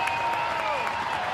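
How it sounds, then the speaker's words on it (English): Crowd at a college softball game in Columbia, home of the Missouri Tigers, clapping and cheering in a short steady wash of applause from the stands, with an announcer's voice over it. "Crowd starting to get into it here in Columbia"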